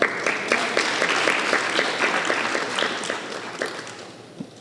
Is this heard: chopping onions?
no